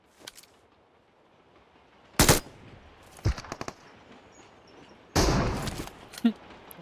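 Bursts of gunfire in PUBG Mobile during a mountain fight near a hospital: a sharp volley, a few scattered shots, then a longer loud burst and one more shot, with faint ambient noise between.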